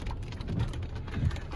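Rain falls steadily on a tree-lined road, a soft, even patter with low rumbling underneath, faint and continuous, with no voices.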